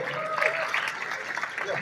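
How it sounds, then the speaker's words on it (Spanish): Audience applause at a fan convention in Mexico City, a steady crowd clapping under voices that talk and call out over it. "Un aplauso para Alexina, por favor."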